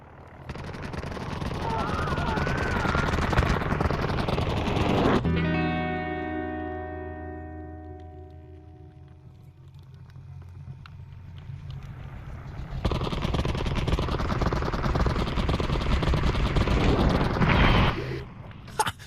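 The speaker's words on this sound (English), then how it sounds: "We've received reports of a low-flying aircraft in your area." Low-flying aircraft in the VR game I Expect You To Die, a loud rumbling roar with rattling bursts that builds, drops into a long sustained tonal drone, then swells back to a loud roar before cutting off.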